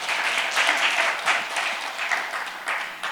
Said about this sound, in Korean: 발표자 여러분께 다시 한번 큰 박수 부탁드립니다